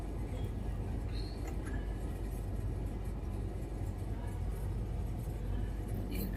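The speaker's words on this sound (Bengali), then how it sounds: "ট্রেন ঢুকেছে বসে।" A train pulls into a station in the rain, bound for Shalimar. A continuous low rumble and rolling drone stays steady and fairly close throughout, with no clear voices.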